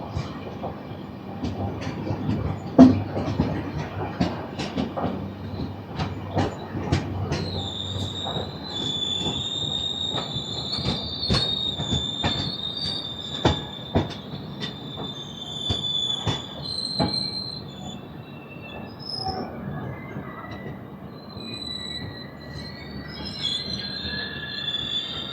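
A train moves slowly through a railway station on a single-track line. Its wheels squeal in long high-pitched whines over rumbling and irregular rail clicks, with faint voices in the background.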